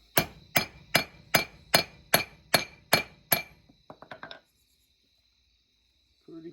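A brass drift is struck with a hammer to drive a part on a Hyundai turbo project, ringing metallic blows landing about ten times in an even rhythm, followed by a few lighter quick taps and a faint clink.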